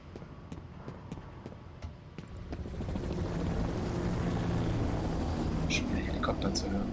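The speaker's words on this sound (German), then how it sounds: "Schon wieder Helikopter zu hören." A low, steady helicopter rotor drone in the video game F.E.A.R. rises from the background and builds to a continuous rumble, with faint clicks and quiet whispery voices underneath.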